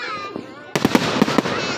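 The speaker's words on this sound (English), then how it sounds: "Firework time." Fourth of July fireworks go off nearby after a brief quiet hum, a rapid burst of loud cracks and pops, about five sharp bangs crowded into under a second.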